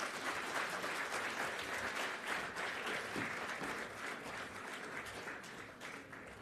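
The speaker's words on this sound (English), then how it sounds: "Shall we please give our young people another round of applause?" Steady applause from a summit audience at the Global African Hydrogen Summit, honoring young people, a dense even wash of clapping hands that holds at a constant level throughout without any talking over it.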